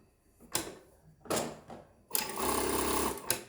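A PROSEW 1988A industrial sewing machine stitches a seam in short close bursts, two brief runs followed by a longer steady whirring run, with no voices.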